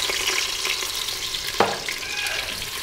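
Onion added to spices sizzling and frying in hot oil, a steady crackle with a brief clatter midway through, and no one speaking.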